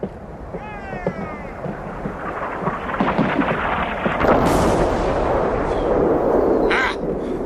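Artillery guns shelling and bracketing a target, deep booms and rumbling blasts building into a sustained roar, with a faint whistling rise early on and no voices over it.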